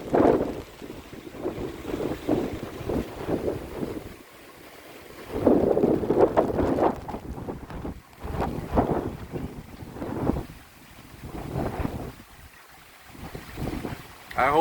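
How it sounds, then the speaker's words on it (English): Strong hurricane winds of Hurricane Ian roar and buffet the microphone in loud gusts that rise and fall, surging hardest in several bursts with brief calmer lulls between. "the wind is really starting to pick up. It gets strong at times."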